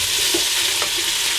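Vegetables sizzle in hot coconut oil as they are stirred in a stir fry, a loud, dense, close hiss with faint scraping and no talk.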